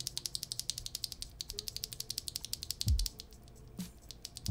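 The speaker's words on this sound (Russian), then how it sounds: "Это свитчи ММД, причем тактильные. Довольно приятные по звуку." Tactile MMD mechanical keyboard switches clicking in a fast, steady run of sharp, close ticks, with a brief low thump near the end and no talking.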